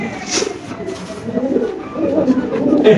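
Pigeons coo at a crowded pigeon market, low repeated calls close by with faint background chatter and bustle.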